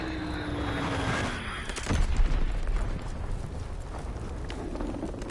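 An enemy bomb strike in Call of Duty: WWII plays out as aircraft drone over a steady battlefield rumble, with a heavier blast near the middle and scattered cracks of gunfire through the mix.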